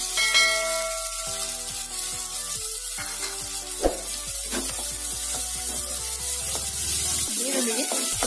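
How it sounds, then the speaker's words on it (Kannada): Chopped onions sizzle steadily in a little hot oil in a pan, a continuous bright frying hiss with occasional spatters, accompanied throughout by ringing tonal notes. "ಈರುಳ್ಳಿನ 1 ನಿಮಿಷದಷ್ಟು ಫ್ರೈ ಮಾಡ್ಬೇಕು."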